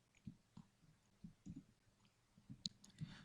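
A computer mouse clicks several times at uneven intervals, each click soft and close, with near-silence between them and no talking.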